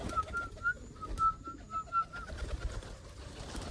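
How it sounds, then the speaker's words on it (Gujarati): Pigeons cooing near a pigeon coop, repeated soft throaty coos in an irregular rhythm, fairly close and alone over a quiet outdoor background. "મિત્રો, તો કબૂતર અહીંયા આવ્યો"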